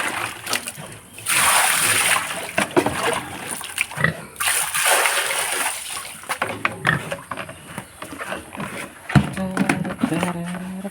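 Water splashes into a pig feed trough along with feed as pigs grunt and eat, splashing bursts recurring over steady animal noise, with a person talking nearby.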